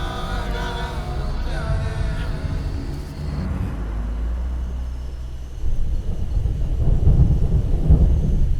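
Low rumbling thunder rolls beneath steady rain, growing heavier and louder toward the end, with no voices.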